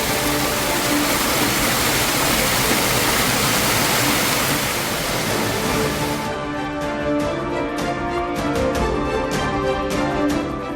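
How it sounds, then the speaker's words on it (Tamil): Rainwater floods down the steps of a Murugan temple like a waterfall, a loud, steady rushing roar of cascading water that runs for the whole stretch with no voices. "அருவி போல பெருக்கெடுத்த மழைநீர், முருகன் கோயில் படிக்கட்டுகளில் வழிந்தோடிய வெள்ளம்."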